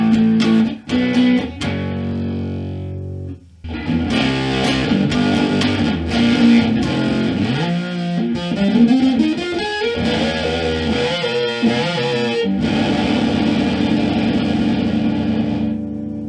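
Small guitar amp driven through an effects pedal circuit, a loud, continuous distorted guitar tone with sustained notes and a buzzing edge that runs almost unbroken after a short quieter opening.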